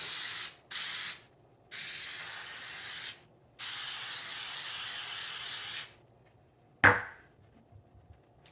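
Cooking spray is hissed into a brownie pan in several close bursts, two short and two long. A brief clunk of the can or pan follows near the end.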